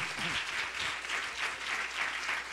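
A church congregation applauds for the Lord during an evangelist's sermon, a dense, sustained wash of clapping with a brief voice at the start.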